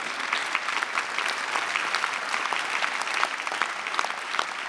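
Audience applause at a Saint Petersburg theatre award ceremony, a dense, steady wash of many hands clapping that holds at an even level throughout, with no voices over it.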